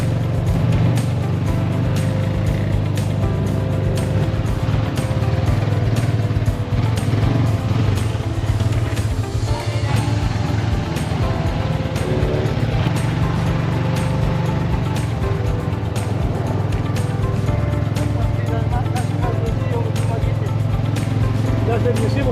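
Steady engine and road noise from a car driving through town between Dauin and Dumaguete in the Philippines, a constant close rumble with passing traffic, and people talking over it throughout.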